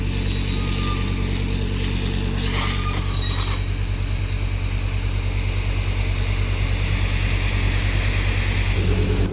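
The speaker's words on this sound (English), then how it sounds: "The mighty scraper tractor." A scraper tractor works in a beef farm cattle shed, scraping the wetted-down slats; a steady, loud engine drone with mechanical rumble continues unbroken for the whole stretch.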